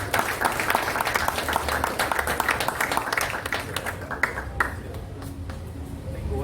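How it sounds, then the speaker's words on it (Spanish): An audience gives applause for Paco Bardales at a book fair night, brisk clapping that fades after about four seconds into a quieter room with light murmur. "Un aplauso al gran Paco."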